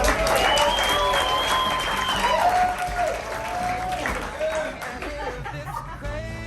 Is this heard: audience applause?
yes